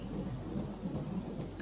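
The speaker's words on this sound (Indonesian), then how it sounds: "kalau di sini hujannya kayak gini" Heavy rain falls with low rumbling thunder beside a riverbank, a steady dense roar that rolls continuously without any voices.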